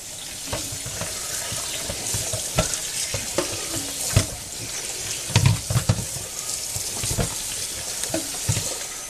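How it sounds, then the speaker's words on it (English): Tap water runs steadily into a kitchen sink as seitan dough made from wheat flour is kneaded and rinsed in a colander, with splashes and handling knocks over the flow, close by and without talk. "I'm just going to run a little water through there as we knead this up."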